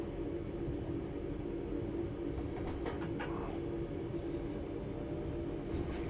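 Electric train driven under power on a climb toward the bay platform at Four Oaks in Train Sim World 3, a low steady rumble of motors and wheels with faint metallic clicks, continuous and fairly quiet.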